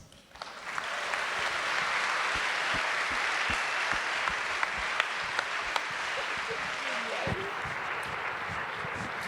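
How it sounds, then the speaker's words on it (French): An audience at a French-language talk gives loud, sustained applause that starts abruptly and holds steady for several seconds, with scattered sharper claps and faint voices mixed in. "Applaudissez-la très très fort"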